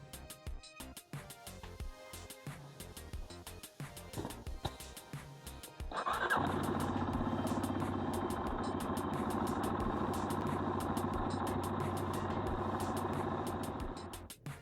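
A CFMOTO C Force 400/500 ATV engine, freshly serviced with new oil, is started after a stretch of clicks and handling noises, then settles into a steady, loud idle that runs until cut off near the end.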